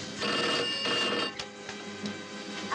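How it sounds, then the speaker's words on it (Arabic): An old telephone bell rings loud and continuous in a film scene, a shrill, steady trill with brief dips and no talking over it. "رد على التليفون"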